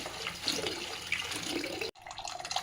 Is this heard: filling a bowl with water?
yes